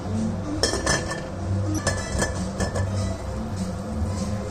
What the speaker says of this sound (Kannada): ಲಿಡ್ ಕ್ಲೋಸ್ ಮಾಡ್ತಾ ಇದ್ದೀನಿ